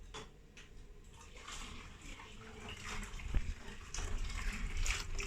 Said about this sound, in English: So it's just a matter of me now to add hot water so that the process of cooking pap starts.